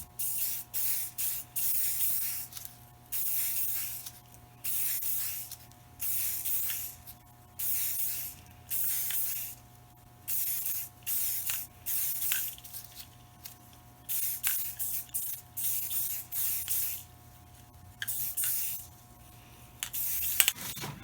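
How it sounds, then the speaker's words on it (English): A light coat of black spray paint goes onto wagon wheel tires for an antique horse tricycle restoration, in repeated short hissing bursts with brief pauses between them, close and fairly quiet. "First we're going to start with just a light coat of black paint."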